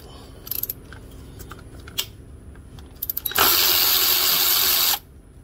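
A power tool spins briefly after a few metallic clicks, then whirs loudly for about a second and a half as the last bolt comes off the A/C compressor of a 2014 Kia Soul.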